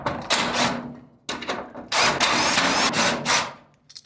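Power driver fitted with a 7/16 socket spins out a hinge bolt in short bursts, a close whirring buzz that stops and restarts several times with pauses between.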